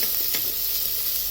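Carrots and beans fry in a soup pot with a steady, close hiss and sizzle, broken by a couple of faint stirring clicks near the start.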